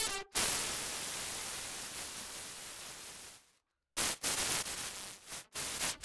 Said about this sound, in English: The higher the wave shaping value, the more noisy the overall output.